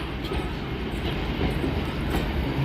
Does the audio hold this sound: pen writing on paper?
no